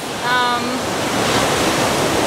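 Ocean waves wash and churn in a continuous loud rush of surf, with a brief voice near the start heard over the water.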